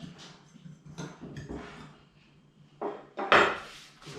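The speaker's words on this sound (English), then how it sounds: "And I'm just going to give this a little mix." Ingredients for a cherry and strawberry tart being stirred in a bowl, giving scattered clinks and scrapes of utensil on bowl, a few sharper knocks toward the end, fairly close with no talk.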